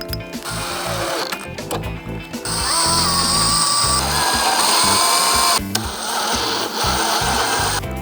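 Power driver running screws to mount an LED headlight on a Harley-Davidson Road Glide, reusing the original screws: a sustained close-up whirring drive with short stops and tool handling between runs.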